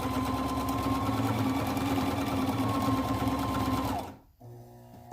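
A sewing machine stitches through a wax sandwich bag booklet, running steadily and loudly for about four seconds with a continuous whirring drone, then stopping abruptly and leaving a quieter hum.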